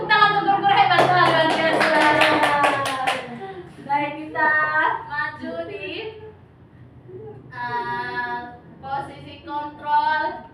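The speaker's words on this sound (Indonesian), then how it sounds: "Tepuk tangan untuk guru hebat, luar biasa." A quick run of rhythmic hand clapping in praise of a teacher at school, fairly close and lively, mixed with speaking voices that carry on after the applause ends.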